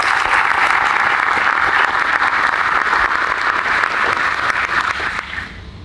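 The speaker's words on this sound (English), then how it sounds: "how about another round of applause for that fantastic national anthem." Audience applause at a military change-of-command ceremony: steady, dense clapping from a large crowd that holds for about five seconds and then quickly fades out.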